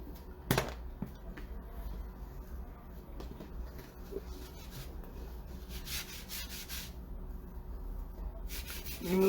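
A disinfectant wipe rubbed across a board used for silk-screen paste, soft close scrubbing and rubbing strokes with a few sharp knocks and small handling clatters, quiet and without talk.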